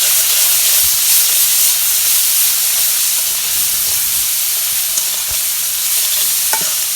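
Crushed garlic sizzles in hot oil in a village kitchen as a loud, steady broadband hiss of frying that runs unbroken throughout, with a few faint clinks over the top.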